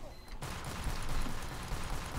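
Pistol shots in Team Fortress 2 blend into a dense, continuous clatter of rapid gunfire and combat noise that starts abruptly and stays moderately loud throughout.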